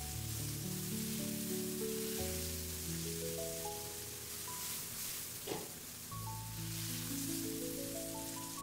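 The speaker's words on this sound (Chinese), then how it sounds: "接下來把香菇直接倒在鍋中，快速的翻炒均勻，把香菇炒乾水分" Shiitake mushrooms stir-fried in a wok with ginger, garlic and small chili peppers, giving a steady hiss and crackle under louder background music.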